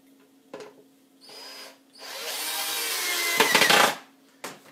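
A power drill drives screws into a wooden bluebird house kit, giving brief whirring bursts and then one longer, louder run that ends in a grinding bite as the screw seats, close up with quiet gaps between.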